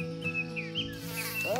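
Close, persistent whining hum of mosquitoes buzzing in a summer forest on the Keweenaw Peninsula, with pitch wavering as insects fly near, continuous and fairly loud, with no talking.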